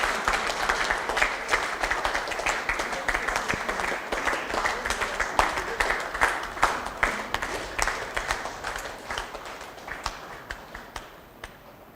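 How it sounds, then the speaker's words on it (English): An audience applauds a winning team at a prize-giving, steady many-handed clapping close by that continues for about twelve seconds and gradually thins toward the end. "I think they all deserve a round of applause."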